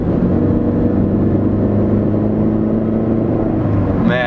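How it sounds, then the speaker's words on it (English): Chrysler car with a supercharger giving a steady, loud mechanical whine over a constant engine drone, unchanging throughout with a brief higher-pitched flutter at the very end. "It's just a supercharger whine."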